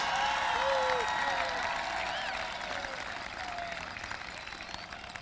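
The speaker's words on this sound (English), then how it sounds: "We give our defense a round of applause" An audience at a high school football state championship celebration gives a sustained round of applause, dense clapping that stays loud and gradually tapers, with a few voices and whistles mixed in.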